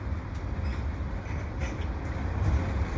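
A long CP eastbound mixed freight train with a block of oil cars rolls slowly past in winter, a steady deep rumble of wheels and cars with faint higher squeals, continuous and close.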